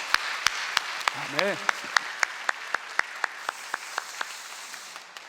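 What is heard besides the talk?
congregation applause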